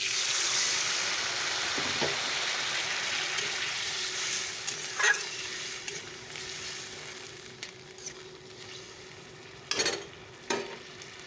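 Curry frying and sizzling in a pan with a steady hiss throughout, as broth is added and stirred in, with a few brief clinks and scrapes of a spoon against the pan.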